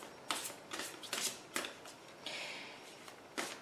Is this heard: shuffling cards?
yes